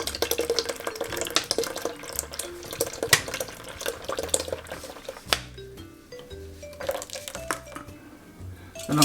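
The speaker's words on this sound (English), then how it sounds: "put in the rest of our Guinness" Guinness stout poured into a Jamaican peanut punch mixture, a liquid stream trickling and splashing steadily for several seconds in a kitchen, with faint clinks of dishes and no talking.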